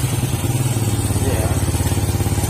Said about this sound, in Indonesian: coba kita praktek sambil nyalakan motor.